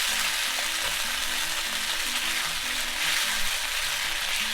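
Chicken pieces for kung pao chicken sizzle steadily in a hot pan, a loud continuous frying hiss with no talk, with faint music playing softly underneath throughout.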